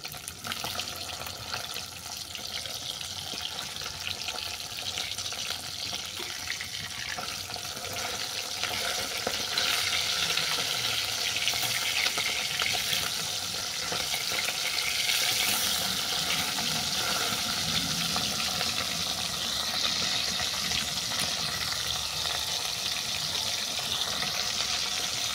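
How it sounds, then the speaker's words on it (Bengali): Bata fish frying in hot oil in a Bengali kitchen, a steady, dense sizzle and crackle that holds loud and even throughout with no talking. "মাছ এক পিঠ ভাজা হয়ে গেছে,"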